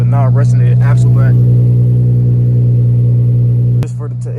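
Infiniti Q50 idling with a non-resonated axle-back exhaust: a loud, steady deep drone, with a brief rev blip near the start and the tone dropping slightly near the end, while someone talks over the first second.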